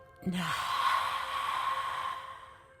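During a guided meditation, a person takes a deep breath in and lets it out in one long, soft, airy exhale that slowly fades, close to the microphone with no talking over it.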